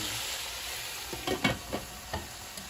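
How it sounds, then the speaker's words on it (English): New Mexico-style comfort food fries on medium-high heat, a steady close sizzle broken by several stirring scrapes and clatters. "Now go ahead and let that cook on medium high for now."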